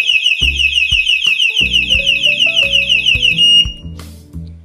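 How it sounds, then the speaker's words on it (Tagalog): A loud electronic bicycle anti-theft alarm sweeps rapidly up and down in pitch for several seconds, then cuts off, with clattering handling noises underneath. "naka-alarm pala yung bike ko."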